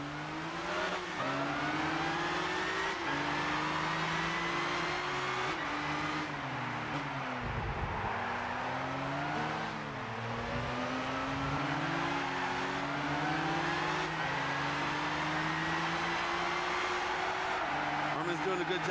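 Race cars in Gran Turismo 6 roar continuously, engines revving up and down through gear shifts with tire noise, while a commentator talks over the racing throughout.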